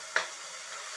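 Fish curry seasoning (vadagam) sautéing in a pan gives a soft, steady sizzle with one brief stir or clink near the start, fairly faint and with no one talking.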